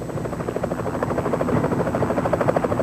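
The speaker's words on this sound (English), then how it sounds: "The thumping beat of its twin-bladed rotor quickly became a familiar sound" A Huey helicopter's twin-bladed rotor thumps in a steady, rapid beat, loud and continuous, with an engine whine humming underneath.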